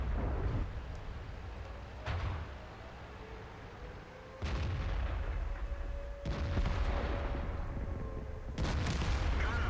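Tank cannon fire from a T-10 in a tank video game: five heavy booms about two seconds apart, each followed by a rumbling decay under a low steady engine hum.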